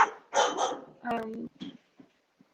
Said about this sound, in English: One of those dogs outside.